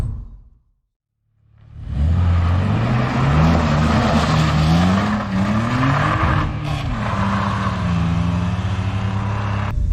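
A 2002 BMW 330Ci E46 coupe pulls away after a moment of near silence, its engine note rising loudly through the gears with a strong, close rumble.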